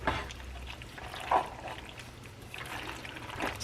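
Half and half pours into a pan of mac and cheese with pulled pork, a soft continuous trickle and glug of liquid with a few brief louder splashes, close and moderately quiet.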